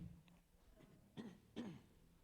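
A man clears his throat twice in quick succession, two short rough bursts, with a softer throaty sound just before; quiet and close, with no talking.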